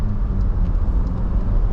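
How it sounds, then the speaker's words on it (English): Steady, loud, low rumble of a car driving along a suburban road in the rolling hills of Harkaway near Melbourne, continuous road and engine noise heard from inside the vehicle with no talking. "I'm just driving out of Hessel Road"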